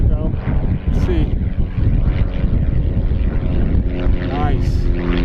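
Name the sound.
FMS Pitts V2 1400mm RC airplane propeller engine climbing vertically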